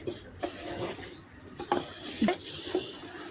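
Rice and chicken, three kilos of chicken with two kilos of rice, being stirred together in a pot for chicken biryani, with spoon scrapes and clinks against the metal at irregular intervals over a low background hiss.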